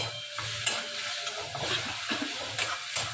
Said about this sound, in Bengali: মশলাটা ততক্ষণ কষিয়ে নিই